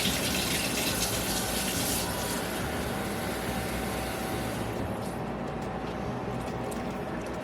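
Water poured from a container into a bowl of Missouri mix biscuit dough, a steady close gushing stream that runs continuously, with a brighter hiss at first that softens toward the end; no talk.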